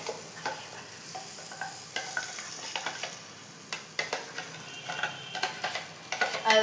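A ground paste frying in a pan with asafoetida and sautéed ingredients is stirred vigorously. Repeated scraping strokes sit over a steady sizzle and grow louder toward the end, with no talking.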